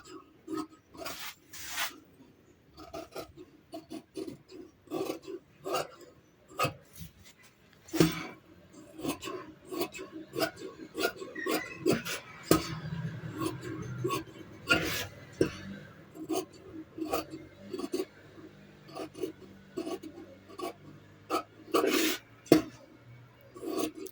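Scissors cut blouse lining fabric in close, irregular snips and rasping crunches, some quick and clustered and some spaced apart, with no talking.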